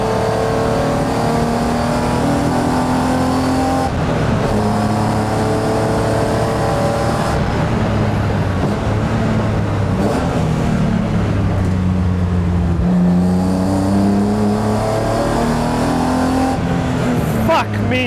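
A garage-built BMW E36 race car laps a track, its engine revving hard and rising and falling through gear changes, loud and close from inside the cabin, with someone talking excitedly over it.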